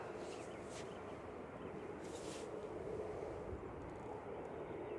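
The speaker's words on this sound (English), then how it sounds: "Heading back to Frankfurt with Flight 947. This is DAIDE, an A321 classic 14-year-old aircraft." A Lufthansa Airbus A321 airliner, a 14-year-old jet bound for Frankfurt from Manchester Airport, produces a faint, distant, steady roar of jet engines mixed with wind noise, with no talk.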